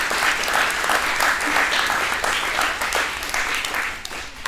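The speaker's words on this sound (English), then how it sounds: "So give them one more round of applause." A school audience applauds after a 2021 Shakespeare play, a steady, full round of many hands clapping that continues without a break, with no voices over it.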